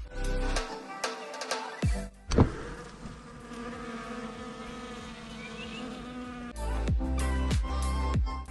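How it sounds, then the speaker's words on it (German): Bees buzz around sunlit blooming flowers on a hike to see blue tajinaste, with intermittent close buzzing passes and a steady hum in between, set against an outdoor background. "Jede Menge Bienen unterwegs."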